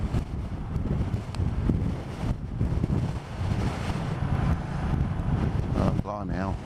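Gusty wind buffets the microphone in uneven surges, with a rumbling roar that rises and falls and a brief voice near the end.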